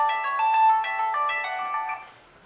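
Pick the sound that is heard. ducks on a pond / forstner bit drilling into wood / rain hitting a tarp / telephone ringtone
telephone ringtone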